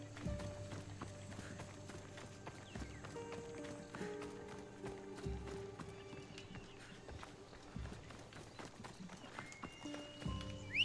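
In Assassin's Creed Odyssey a horse gallops in steady, rhythmic clip-clop hoofbeats that run throughout, close and fairly loud, with a brief whinny and game sounds mixed in.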